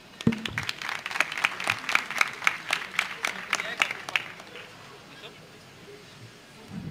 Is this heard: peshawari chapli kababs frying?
no